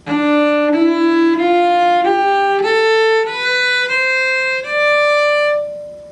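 A string instrument in thumb position plays a slow run of rising notes, a half step between the middle fingers, each held and ringing clearly, with no one talking.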